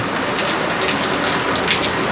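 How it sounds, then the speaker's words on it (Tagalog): Steady rain pours down on a grey morning as a storm approaches, a dense, even hiss of drops hitting surfaces, loud and close throughout with no voices or thunder breaking through. "Grabe, buti ganyan pa lang yung ulan dito sa amin, kaya okay pa."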